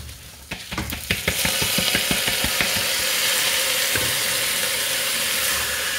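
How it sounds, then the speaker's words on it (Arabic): Vermicelli frying in hot oil for an Egyptian rice dish, a steady bright sizzle, with a burst of sharp rhythmic scraping and stirring clicks early on before the frying settles into a constant hiss. "في هاي المرحله الشعريه بسرعه بتتحمر"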